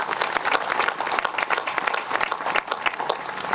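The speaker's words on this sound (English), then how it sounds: "Let's give them all another round of applause," An audience applauds with steady, dense clapping throughout, loud and sustained without a break.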